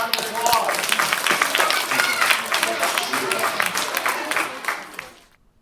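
Second-grade students in a classroom break into lively applause, a dense burst of many small hands clapping with some excited voices mixed in, holding steady for several seconds and then fading quickly to quiet.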